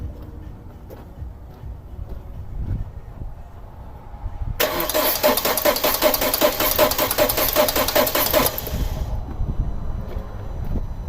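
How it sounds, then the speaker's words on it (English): A 2006 Audi A4 2.0T engine cranks over for about four seconds, a loud, steady rhythmic churning of the starter after a quiet stretch, then it stops without catching. "I'm going to crank the car one more time, see if this builds pressure."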